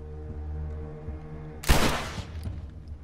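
A single loud gunshot bursts out in The Last of Us Remastered, a sharp blast that decays into a brief tail over a low, steady hum of game background.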